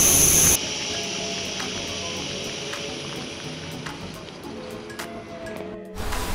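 An MSR WhisperLite Universal camping stove burner keeps roaring after its gas has been shut off: a steady, loud, breathy rush of flame holds for several seconds, then cuts out abruptly before a brief return.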